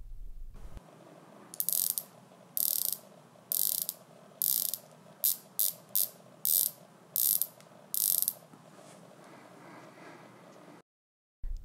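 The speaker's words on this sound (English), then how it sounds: "the bezel action is so much more pleasant to use" Ratcheting bezel on a Rolex GMT Master II Pepsi 16710 turned click by click, about a dozen crisp close ratchet bursts in an uneven rhythm over a quiet background.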